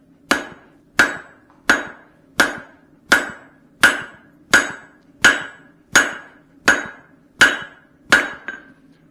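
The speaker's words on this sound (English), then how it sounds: "hammering down the peen." A forged Swedish-style cross peen hammer head has its peen struck down by a hammer: about a dozen loud, ringing metallic blows at a steady, even pace, close up with no talking.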